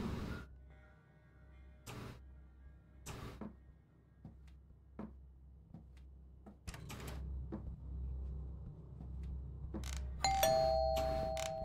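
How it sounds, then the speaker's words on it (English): In the Home Alone scenario of the video game Fears to Fathom, a doorbell rings several times as short, bright strikes over a low, quiet room hum, with scattered clicks and a final electronic tone. "Why are you ringing the doorbell?"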